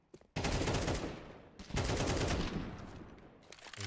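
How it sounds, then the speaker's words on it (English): AK rifle fire in a competitive video game match, two loud sustained bursts of rapid automatic gunshots separated by a brief gap, close and dominant. "He shoots the AK away."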